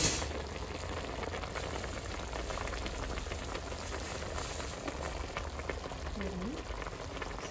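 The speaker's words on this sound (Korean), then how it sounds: "준비해뒀던 해산물도 넣겠습니다." Shrimp, squid and mussels going into a hot pot for a seafood stew, giving a continuous, even sizzle and bubbling hiss close by with no sharp breaks.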